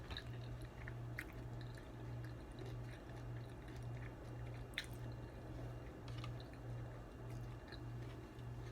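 Chewing a plant-based walnut meat substitute close to the mic, soft squishy bites and moist mouth sounds repeating steadily over a low continuous hum, faint and intimate.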